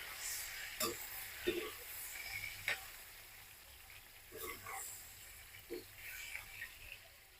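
Raw banana curry is stirred with salt and turmeric in a pan, with a spoon scraping in a few scattered knocks over a faint background hiss.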